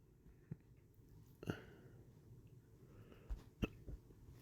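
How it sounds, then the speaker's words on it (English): Several short, sharp hiccups from one person, spaced irregularly over a few seconds, close to the microphone in a quiet room with no speech. "I have hiccups"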